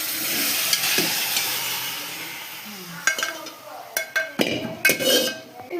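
Instant Maggi noodles with vegetables and masala are stirred in a hot pan, a soft sizzling hiss at first, then a run of sharp spoon scrapes and clinks against the pan in uneven bursts.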